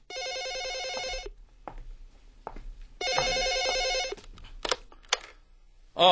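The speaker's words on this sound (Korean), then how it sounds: "현식이 스위치를 찾고 있을 즈음 유정에게서 전화가 왔다." A telephone rings in a quiet scene: two long electronic bursts of ringing separated by a pause, with soft footsteps and small handling sounds between them.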